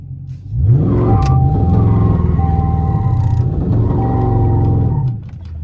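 A Dodge Charger SRT Scat Pack V8 roars loudly and close during a launch control attempt. The engine holds at high revs for about five seconds, then drops away abruptly.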